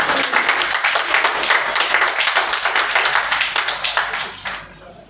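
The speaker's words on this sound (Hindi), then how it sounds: "जोरदार तालियां दोनों प्रेसिडेंट्स के लिए।" An audience at a club installation ceremony bursts into loud, dense clapping for two presidents, sustained for several seconds before tapering off near the end.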